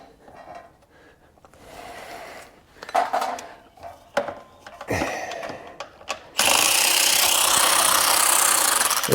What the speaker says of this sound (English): I could throw the ratchet on there